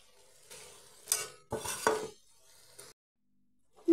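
Chopped ridge gourd pieces tumble into a pan of fried spice paste with a couple of clattering bursts and a brief sizzle, followed by a short clink of utensils, then silence and a final metallic knock.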